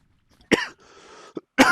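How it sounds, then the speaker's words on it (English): One person with phlegm in the throat coughs close up in short bursts: a sharp cough, a rough rattling throat-clear, another brief cough, then a final harsh cough. "I got really like phlegm in my throat, so I'm coughing so much right now"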